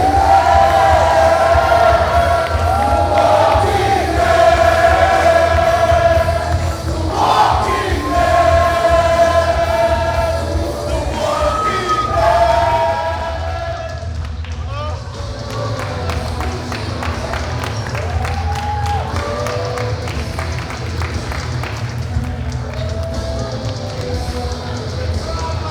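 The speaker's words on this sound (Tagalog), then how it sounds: "Crowd celebrating with Mike Madrigal after winning a triple threat FPW championship." A wrestling crowd at an FPW event roars and cheers for champion Mike Madrigal after his triple threat title win. The loud crowd noise is mixed with shouting voices and scattered clapping, and it eases slightly partway through.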